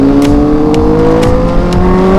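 A Yamaha Aerox scooter fitted with a swapped CB400 engine accelerates hard, its loud, close engine note climbing steadily in pitch.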